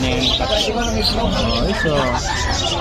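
Crested frillback pigeons of the Hagro breed calling in a loft: a dense, continuous mass of overlapping bird calls, close and steady throughout, with voices mixed in.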